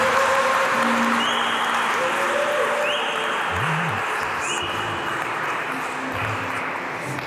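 A wedding congregation at a Congolese church ceremony applauds in a steady, dense wash of clapping that fills the whole space and holds at an even level throughout.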